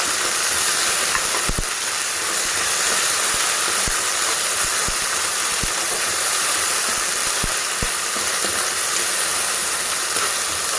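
Two spoons of ginger garlic paste sizzle in hot frying oil with a loud, steady, bright hiss, dotted with sharp pops and spits throughout.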